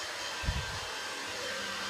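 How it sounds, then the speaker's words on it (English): A blow dryer runs steadily with a constant airy whine and hiss, close and unbroken, with a brief low bump near the start. "we got some heat from the blow dryer"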